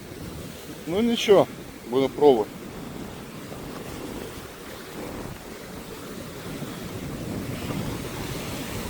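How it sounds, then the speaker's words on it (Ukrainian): Ocean surf and wind at the shore make a steady broadband wash, with brief speech near the start over the roar before the waves continue alone. "океан трохи хвилюється."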